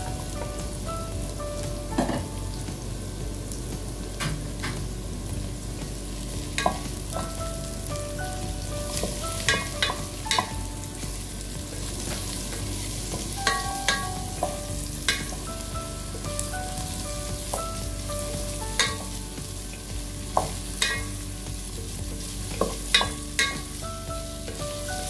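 Fried fish being stirred in a sizzling pan while cooking a mung bean and vegetable dish, a continuous crackling fry punctuated by repeated clinks and scrapes of the utensil against the pan, close and steady, with no voices.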